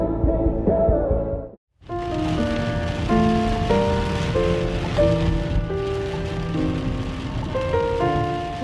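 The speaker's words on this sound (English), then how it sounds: "It's a beautiful, very rainy day in Pennsylvania." Steady rain in Pennsylvania patters and drums on a surface, dense and close, with a brief break near the start before the downpour resumes.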